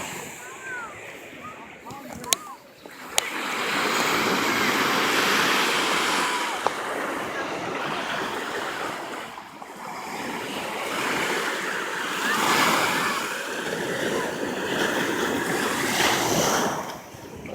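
Ocean surf rolls and breaks in a continuous wash of waves, with gusty wind buffeting the microphone and a few sharp clicks near the start.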